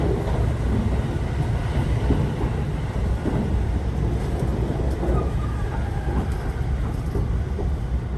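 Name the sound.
JR West express train overtaking a local train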